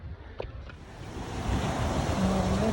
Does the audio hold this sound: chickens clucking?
no